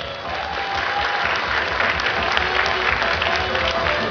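A concert audience in a palace of culture applauds at a dance ensemble show, a dense, sustained wash of clapping from a crowd that holds steady for several seconds.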